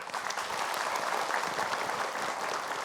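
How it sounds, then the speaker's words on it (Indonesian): Steady, dense applause from a crowd of women at a religious gathering, many hands clapping continuously at an even level throughout. "Boleh ibu-ibu berikan tepuk tangan untuk Ustadz Danung."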